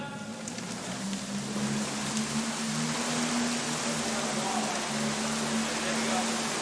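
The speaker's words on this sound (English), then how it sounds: "Rain's coming up." Artificial rain pouring from a rain machine on a film set, a steady, dense hiss that holds evenly the whole time over a low, constant hum.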